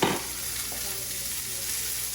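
Salmon just flipped in a hot pan sizzles steadily, with a sharp burst at the flip and then an even, close frying hiss.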